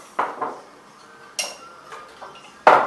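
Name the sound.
stirring coconut oil into raw chocolate mixture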